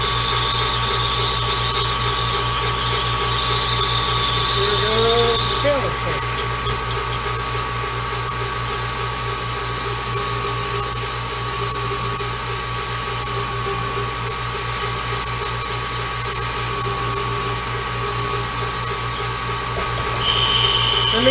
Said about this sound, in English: Here goes the countersink.